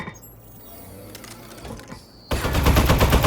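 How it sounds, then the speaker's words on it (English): A gun in the video game Aperture Desk Job opens up suddenly after a quiet mechanical hum, firing a loud rapid stream of shots that continues to the end. "Shooting."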